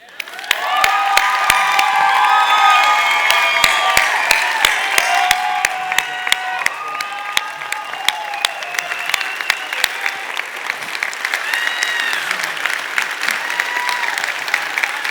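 A concert audience rises in a standing ovation, dense sustained applause with cheers and whoops swelling near the start and holding loud throughout, sharp individual claps standing out over the crowd.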